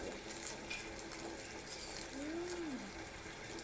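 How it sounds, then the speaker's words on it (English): Running water at a kitchen tap pours as a steady, fairly quiet broadband rush with a faint clinking sound partway through; no talking is heard. "Sorry for the noisy water sound."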